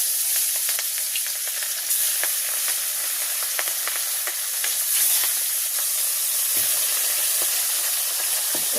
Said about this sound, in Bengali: তেল গরম হয়ে গেছে, আমি এখন মাছটা দিয়ে দিচ্ছি।